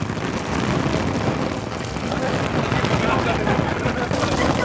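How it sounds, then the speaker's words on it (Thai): Artificial rain pouring steadily over an outdoor sound system with a weatherproof 15-inch turbo bass cabinet, a loud, dense, even hiss of falling water with no letup. "นี่ครับอยู่กับบรรยากาศฝนครับผม"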